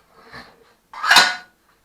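Dishes, pots and cutlery clatter as space is cleared on a kitchen counter for washing greasy dishes, a soft clink followed by a louder, sharper rattle of stacked crockery.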